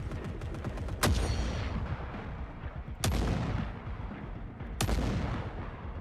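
Three separate gunshots ring out from a firearm in the Forever Winter video game, each sharp, loud crack spaced roughly two seconds apart, trailing into a long decaying rumble over low background noise.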